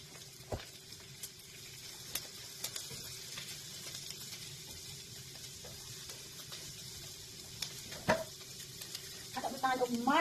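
Carrots and Chinese cabbage stir-fried in a pan: a faint, steady sizzle with occasional clicks and scrapes of stirring, quiet and close, a louder clatter near the end.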